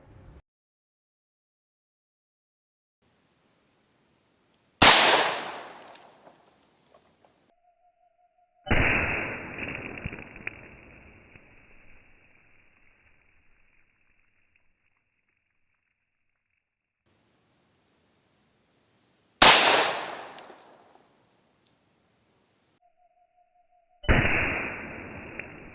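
Shots from a Colt Anaconda revolver with an 8-inch barrel at an outdoor range, two loud single reports spaced far apart, each followed by a long rolling echo that fades out.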